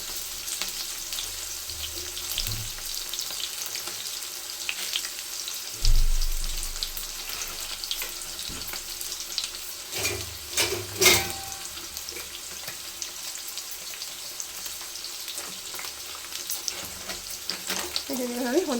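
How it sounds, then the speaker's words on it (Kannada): Masala for a sprouted-bean saaru frying in a pan, giving a steady low sizzle, with a few louder clattering knocks and scrapes and some running water partway through. "ಸ್ವಲ್ಪ ಚೆನ್ನಾಗಿ ಫ್ರೈ ಮಾಡ್ಕೊಳ್ಳಿ. ಚೆನ್ನಾಗಿ ಫ್ರೈ ಆಗಲಿ."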